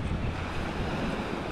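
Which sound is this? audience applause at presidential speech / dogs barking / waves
waves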